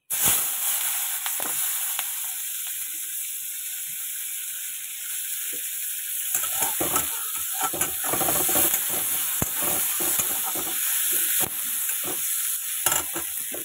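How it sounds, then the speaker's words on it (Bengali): Chopped onions fry in the oil left from frying fish, giving a loud, steady, close sizzle throughout. Busy scraping stir strokes join in during the second half, with no talking. "পেঁয়াজটা হালকা বাদামি করে ভেজে নেবো"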